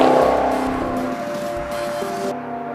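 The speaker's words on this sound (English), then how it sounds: "It has this sort of typical V8 burble, but it really cleans up, it smooths out as you rev it higher." A 2013 Maserati GranTurismo V8 revs close up with a deep burble that rises and smooths out as revs climb, loud and alone, then drops away abruptly at the end.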